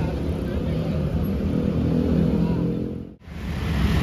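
Bus pulling into a Jakarta terminal, a broad steady engine rumble close by with a short drop in level near the end before it resumes.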